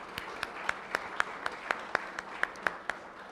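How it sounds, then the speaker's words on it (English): Sparse, rhythmic clapping from a small part of the audience at a legislative assembly general session, individual claps ringing out at a steady pace over a quiet room, fairly faint and distant. "Let's give them a round of applause"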